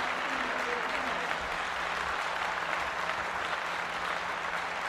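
Sustained applause fills a hall as an honoree is welcomed onto the stage at a women's empowerment award ceremony, dense steady clapping from a sizable audience throughout.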